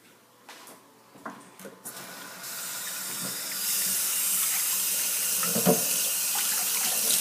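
Tap water running into a sink while hair is co-washed in lukewarm to cool water, starting with faint clatter and handling, then a steady rushing stream that grows louder midway and continues, with a few splashes.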